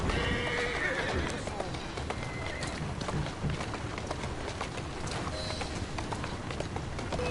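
A horse in Assassin's Creed Syndicate neighs and its hooves clatter in a fast clip-clop run through Victorian London streets, loud and continuous under game dialogue as characters talk.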